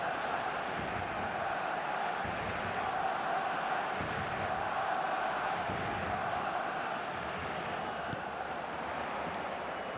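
A stadium crowd roars in an eFootball mobile match, a dense, steady wash of cheering and chanting held throughout at even volume.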